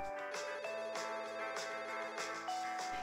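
A telephone rings in a Playmobil toy-house scene for children, an electronic ringtone with a steady repeating pattern of bright tones playing continuously at moderate level with no talk over it.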